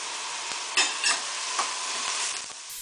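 Onions and garlic brown in a pot for minestrone soup, a close, even sizzle with a few soft knocks and scrapes of stirring, no talking.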